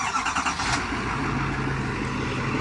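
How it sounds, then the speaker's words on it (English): Cold start of a 2024 GMC Sierra 2500 HD AT4X AEV pickup, a loud steady engine rumble running close by from the first moment with no break, broadband and dense, with nobody speaking over it. "Let's do a cold start."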